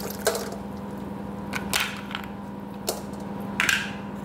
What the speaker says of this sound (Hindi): अपना पानी पी चुके ना सिम्बा, तुम रॉकी को पी लेने दो।